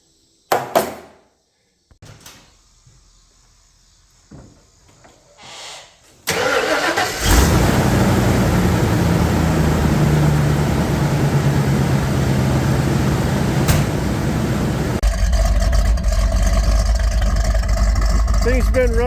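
A problem truck's engine idles loud and steady after a few seconds of quieter handling sounds, a continuous low rumble with a rougher shift near the end.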